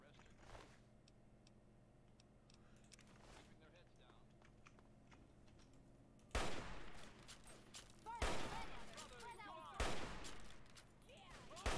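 Gunfire in the video game Fallout 3: after a quieter stretch with faint ticking, loud bursts of rapid shots break out three times in quick succession, close and punchy.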